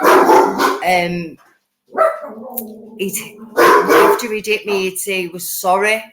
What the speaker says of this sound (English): Sorry about the dogs, they're distracting me.